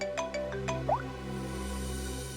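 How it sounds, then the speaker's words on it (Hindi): A short electronic ringtone chimes a few quick rising notes, then stops, leaving a steady low hum in the room. "डीसीपी चित्रों ने मुझे क्यों फोन करा?"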